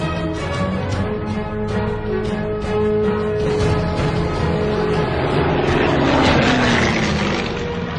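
A Soviet Yak-9 propeller fighter's engine drones loudly and steadily throughout. Its pitch shifts near the end as the aircraft sweeps past, with no voices over it.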